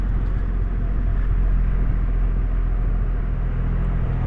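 Triumph Rocket 3R motorcycle engine under way on the road, a steady low rumble mixed with wind noise, continuous and close with no talk.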